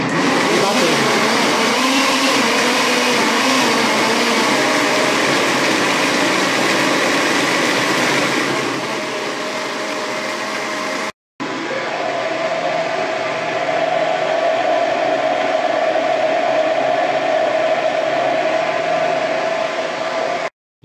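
Kitchen appliance with lid closed beating biscuit dough, a steady loud whirring drone that runs continuously, cuts out briefly, then resumes at a slightly different pitch.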